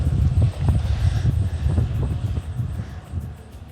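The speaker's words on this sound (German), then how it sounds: "Der Wind ist doch nicht so stark wie angesagt." Gusty wind buffets the microphone of a cyclist riding a 200 km audax brevet on roads and gravel near Kiel, Schleswig-Holstein. It comes as loud, low, uneven rumbling bursts that ease off slightly toward the end. No speech is heard.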